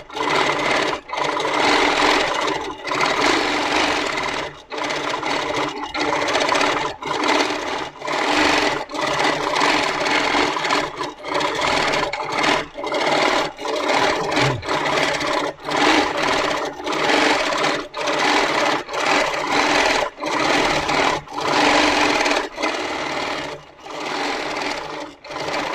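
A Moxie longarm sewing machine stitches free motion quilting along a full line stencil, a loud, close, steady mechanical whir broken by brief regular pauses throughout.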